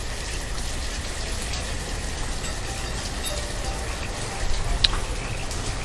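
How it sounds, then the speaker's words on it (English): Rain falling in the city-building video game Banished: a steady, even hiss of rainfall with faint scattered drop ticks, constant throughout at moderate loudness. "Oh, the rain's back. Can't see a thing when it starts raining."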